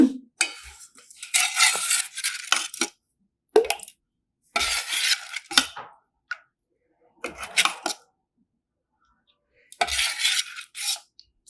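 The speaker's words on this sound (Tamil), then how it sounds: "இப்போ நல்லா கலக்கி விடணும் எசன்ஸும் நம்ம கலந்துடுறோம் நல்லா கலக்கி விடுங்க" Rose syrup with essence is stirred in a metal vessel, heard as bursts of clinking and scraping from a spoon against the sides, separated by short silent gaps.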